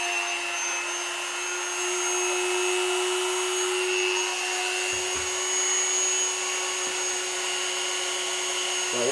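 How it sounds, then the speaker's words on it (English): A Dremel rotary tool fitted with an extension runs steadily with a high, constant whine and a faint shift in pitch partway through, while a person talks at low level underneath. "This is a Dremel, and it's got like an extension"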